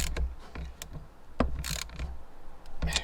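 Loose positive battery terminal being tightened on a VW T4 van, a run of short metallic ratcheting clicks and turns, close and fairly quiet, with no voices.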